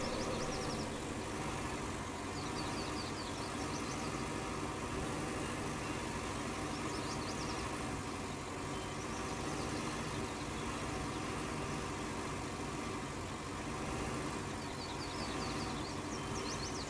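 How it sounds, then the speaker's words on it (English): Tractor engine in a farming video game, pulling a cultivator across a field, running as a steady, continuous drone at constant loudness throughout, with no voices. "You can see this tractor's certainly pulling along this cultivator really easily."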